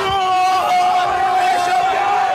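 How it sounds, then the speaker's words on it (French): A crowd lining the route of the Ivory Coast national football team on the way to the Félix Houphouët-Boigny stadium, loud sustained chanting and shouting close by, one continuous roar. "Une foule qui a tenu à saluer son équipe nationale tout au long de l'itinéraire menant les joueurs au stade Félix Houphouët-Boigny"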